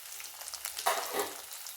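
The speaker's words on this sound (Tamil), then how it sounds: "இப்போ நல்லா வதங்கட்டும் வெங்காயம்" Onions with garlic cloves and green chillies softening in a pan for a fish curry, producing a faint, steady sizzle with one brief louder stir near the middle and no talking.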